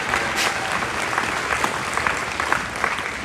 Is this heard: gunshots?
no